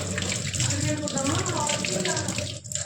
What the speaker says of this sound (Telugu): చేయి కడిగేసుకుందాం.